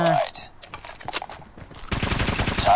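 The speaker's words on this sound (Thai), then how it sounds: "BK ห้าสิบเจ็ด มา อัตราลั่นปืนใช้ได้นะ" Rapid bursts of BK-57 rifle fire in Call of Duty Mobile Hardpoint mode, sharp repeated shots clustered early and then a dense stretch of gunfire near the end, with someone talking over parts.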